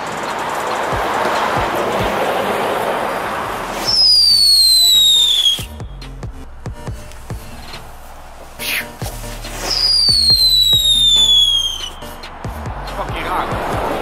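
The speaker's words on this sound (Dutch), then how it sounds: "misschien hebben wij gewoon een pakje gehad wat gewoon knalde" Category 1 ground fireworks go off in two rounds of sharp bangs and crackles, each opening with a rising whistle. A rhythmic pattering and crackling fills the gaps between them, with outdoor background noise throughout.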